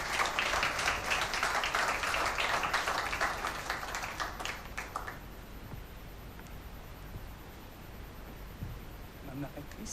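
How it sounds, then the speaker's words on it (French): Audience applause at an awards ceremony for a business prize: dense, steady clapping fills the first half, then thins out and fades into quiet room murmur. "On applaudit."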